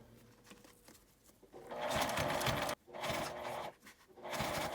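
A sewing machine stitches round the fabric of a toilet paper case with a zipper, in loud bursts of rapid mechanical whirring broken by short pauses.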